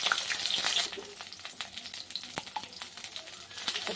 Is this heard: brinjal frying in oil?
yes